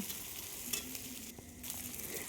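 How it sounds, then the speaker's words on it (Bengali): Cubed capsicum and garlic frying in oil in a pan for paneer chilli, a steady close sizzle with a few stirring scrapes and clicks. "আস্তে আস্তে কিন্তু দেখুন ওগুলো কিন্তু ভাজা হয়ে আসছে"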